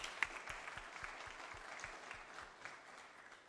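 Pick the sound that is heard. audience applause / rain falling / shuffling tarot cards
audience applause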